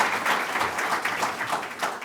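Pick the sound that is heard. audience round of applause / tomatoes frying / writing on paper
audience round of applause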